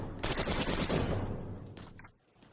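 Sustained rapid gunfire from a PUBG Mobile club-open esports match, a dense automatic burst running nearly two seconds before cutting off, with a brief sharp shot or impact at the end, no voices over it.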